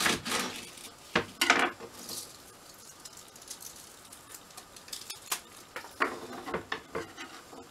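Knife cutting asparagus on a board, a few sharp chops near the start and then lighter scattered taps and scrapes, close and fairly quiet with no talking.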